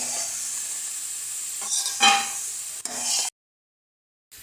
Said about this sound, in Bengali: আলুটা কিন্তু আমাদের ভালো মতন করে ভাজা হয়ে গেছে। এবার আলুটাকে তুলে নেব।